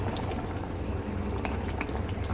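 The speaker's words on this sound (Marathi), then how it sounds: "त्याच्यानंतर बघा उकळी आली मस्त" Crabs boil in salted water in a pot, giving a steady, close bubbling and burbling with small pops scattered through it.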